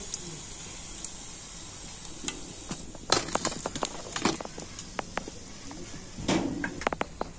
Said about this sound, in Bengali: আর এইভাবে আমি বাকি নাস্তাগুলো ভেজে নেব